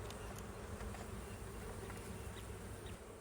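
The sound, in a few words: honey bees buzzing in an open hive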